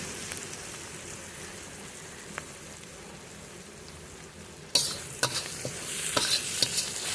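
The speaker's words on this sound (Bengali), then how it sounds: "মশলাগুলো দিয়ে ভালো করে কষিয়ে নেব" Ground spices (turmeric, chilli powder and cumin powder) for a mutton fat ghugni frying in a pan, with a low steady sizzle that grows louder and sharper near the end as stirring scrapes and clatters in, no voices.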